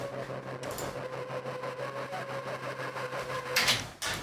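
A dark pop-metal synth patch built from scratch in the Serum VST pulses in a steady, rhythmic pattern over a sustained low drone, with a bright noisy swell near the end.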